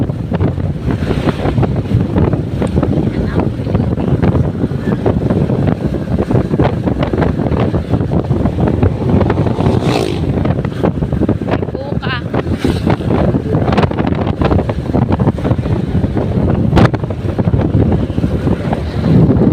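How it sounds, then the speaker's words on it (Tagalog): Strong wind buffeting a microphone on a boat trip near Buenavista, a loud, continuous rushing roar with gusty bursts and rumble, persisting throughout and masking most other sounds. "Grabe, guys, baga na ako matalbo sa hangin"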